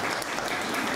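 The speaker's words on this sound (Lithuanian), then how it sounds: "plojimai čia yra labai patartinas dalykas" Applause at a panel discussion, dense steady clapping from an audience for about a second, loud and even.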